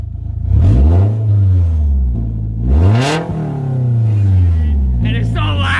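A BMW with a straight-pipe exhaust revs hard, its pitch rising and falling through a couple of loud, close sweeps, with a voice speaking over the engine.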